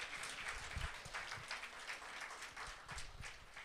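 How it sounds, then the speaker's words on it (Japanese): A church congregation applauds at a sunday service award moment, a faint, steady patter of many hands clapping at a distance for several seconds, with a few louder, closer claps standing out. "大きな拍手でねお帰てください"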